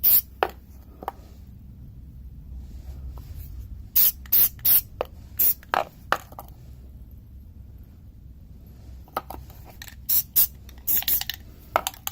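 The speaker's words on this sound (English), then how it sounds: "get some lithium grease on this." Short bursts of aerosol lithium grease spray onto a Hummer H3 body mount, several close, loud hissing puffs in two clusters with quiet gaps between them.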